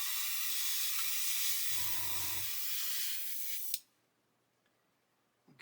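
An airbrush sprays paint onto a model truck chassis in a close, steady hiss that cuts off abruptly partway through, leaving near silence with a faint click at the end.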